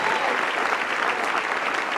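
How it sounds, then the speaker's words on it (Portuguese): A church congregation applauds steadily during a worship service, dense continuous clapping filling the space close and loud, with no talk over it. "Vamos aplaudir forte, vamos aplaudir forte."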